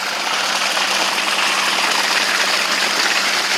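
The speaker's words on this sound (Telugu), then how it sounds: "బావి నీళ్ళు ఇట్లా కాలువల నుంచి అయితే మా పొలానికి అయితే వెళ్తాయి వాటరు" Well water pumped by an engine gushes steadily into irrigation channels on a farm field, a loud continuous broadband rush with no pauses, close and filling the scene without talk.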